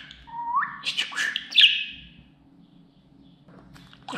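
A pet budgerigar chirps and warbles in a quick burst of high twittering calls, close and clear, then falls quiet before a short final chirp.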